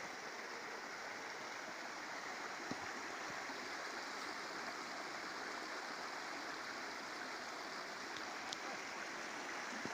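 Steady broadband rushing of flowing water, like a stream running continuously and fairly close, with no voices over it.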